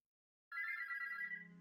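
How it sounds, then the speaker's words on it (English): A phone's morning alarm in the video game Parasite in Love starts suddenly after silence and rings as a steady, bright, trilling electronic tone, loud and close, with no voices over it. "Oh, that sure is an alarm."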